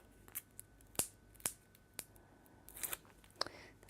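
Backing peeled off foam tape during a papercraft card project: a handful of quiet, crisp ripping ticks spaced apart, with a short scratchy stretch near the end, close and faint.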